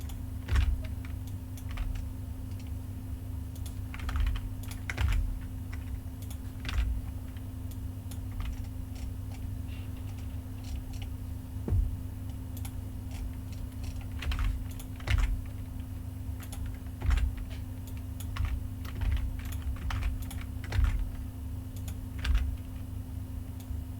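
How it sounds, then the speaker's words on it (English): Computer keyboard keys clack in irregular clusters of taps, close and crisp, over a steady low electrical hum from a computer setup during shortcut-driven work in rigging software. "I'm pressing Shift-T to get my transform tool"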